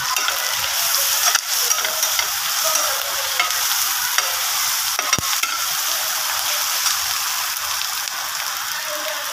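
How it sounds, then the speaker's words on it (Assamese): Dried red chillies frying in hot oil alongside fish heads, producing a dense, close, steady sizzle and crackle with a single sharp clink partway through. "এতিয়া মই তেল ঢালি দিলোঁ তেল গৰম হৈছে এতিয়া মই শুকান জলকীয়াখিনি দিম"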